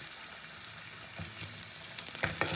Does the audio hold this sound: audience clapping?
no